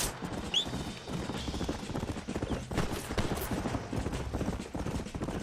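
Horse hooves galloping in the video game Red Dead Redemption, a steady rapid clip-clop rhythm running throughout at close range, with faint game effects and no speech.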